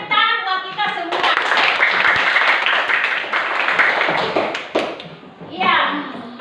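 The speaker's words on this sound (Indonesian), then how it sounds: "Kita tepuk tangan buat kita semua." A primary school class clapping together in a classroom, a burst of close, busy hand claps mixed with children's voices, following a teacher's speech and fading into chatter.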